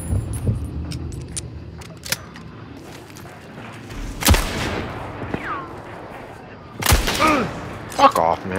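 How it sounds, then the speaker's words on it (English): Gunshots in the tactical shooter Hunt: Showdown, a few sharp reports scattered across the moment, with the loudest near the middle and toward the end, set against background game ambience. "He's shooting."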